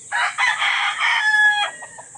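A hen gives a short series of close, clear clucking calls lasting about two seconds, with no talking.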